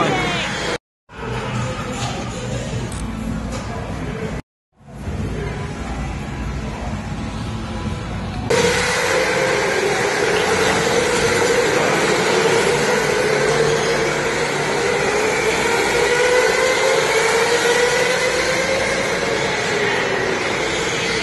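Go-kart engines at a Las Vegas raceway: a loud, continuous engine drone with rising and falling whine as karts pass, after brief cuts, with voices talking over it.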